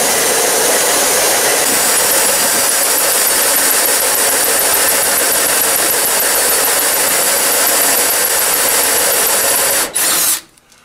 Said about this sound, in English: Let's see if we can drill that out with our hole saw that we put together.